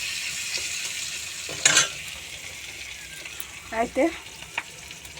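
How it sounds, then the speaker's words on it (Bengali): Onion and bay leaf sizzle steadily in hot oil in a pan, with a few sharp scraping clatters as they are stirred; a voice speaks a single brief word. "লাল লাল করে পেঁয়াজটা ভাজা হবে।"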